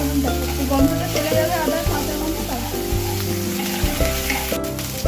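Close, continuous sizzling of ginger with cumin and green chilli frying in mustard oil, a steady crackling hiss with background music running underneath.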